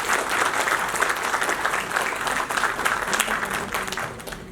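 Sustained audience applause at a formal Oxford-style debate event, dense steady clapping from a crowd filling the room throughout, tapering slightly at the end.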